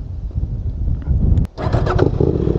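A KTM 690 Enduro R motorcycle engine cranks and catches, its rough idle rumbling loudly and continuously after a brief sharp click.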